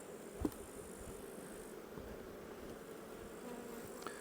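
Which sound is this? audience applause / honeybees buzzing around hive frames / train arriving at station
honeybees buzzing around hive frames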